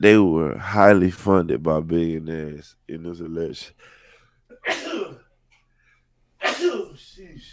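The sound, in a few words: sneeze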